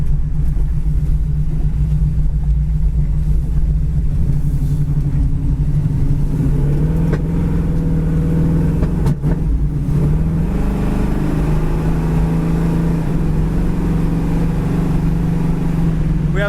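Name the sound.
1970 Chevrolet Camaro driving and accelerating on road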